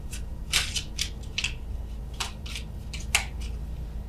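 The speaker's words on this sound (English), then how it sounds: "apologies for the shuffling here" Tarot cards are shuffled slowly in several separate bursts, each a short papery riffle or scrape, close and fairly clear against a quiet room with no talking.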